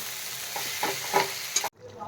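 Close, continuous sizzle of onions frying for chicken curry, with light stirring clatter. It stops abruptly near the end, leaving quieter room noise.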